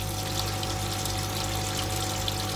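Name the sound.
water running from the tap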